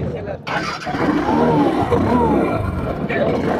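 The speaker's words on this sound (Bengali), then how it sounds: "এই গাড়িটা যদি একটু ইঞ্জিন সাউন্ডটা আপনাদের শোনানোর চেষ্টা করি" Used motorcycle engine cranking over and catching, then running at a steady, rough idle close by, with someone talking over it throughout.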